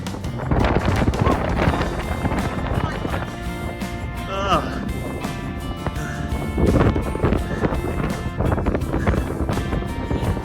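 Gusty desert wind buffeting the microphone in a broad, rough roar that rises and falls over several seconds, with a person talking intermittently in the foreground.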